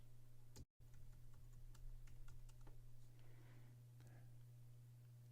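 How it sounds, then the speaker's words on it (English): Username and password typed on a computer keyboard, a run of quiet, uneven key clicks close by over a steady low electrical hum, with no talking. "type in your username and password"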